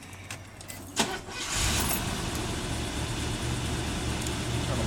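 A 1972 Mercedes-Benz 280SE engine cranks briefly and catches, settling into a steady, close, loud idle for the rest of the clip.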